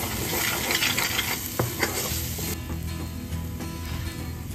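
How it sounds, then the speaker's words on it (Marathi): Chole being stirred with dhania-jeera powder, amchur and chole masala in a pan: a steady, close scraping and sizzling that runs throughout, with a few sharper clinks of the spoon against the metal. "आता ह्याला छान आपल्याला हलवून घ्यायचं आहे"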